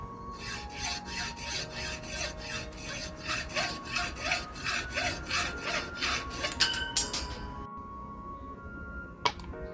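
Steady back-and-forth hand sawing through wood for an archer's thumb ring, a brisk regular rhythm of strokes that slows and stops, followed by a couple of sharp taps.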